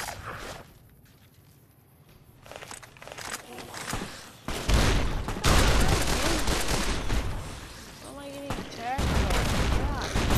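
Gunfire in Fallout: New Vegas comes as a loud burst of rapid shots after a quieter opening, with busy combat noise continuing throughout and a few brief tonal game sounds near the end.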